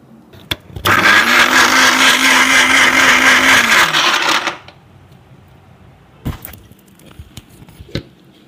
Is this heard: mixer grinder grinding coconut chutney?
yes